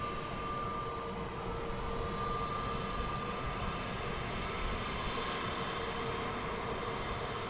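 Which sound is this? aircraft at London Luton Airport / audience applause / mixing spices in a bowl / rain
aircraft at London Luton Airport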